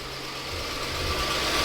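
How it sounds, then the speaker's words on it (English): A 2001 BMW 740i V8 engine idles steadily with a low, constant rumble and a faint whine, growing slightly louder toward the end, burning off oil in the exhaust system. "So I gotta run it for a while like this to burn all the oil in the exhaust system."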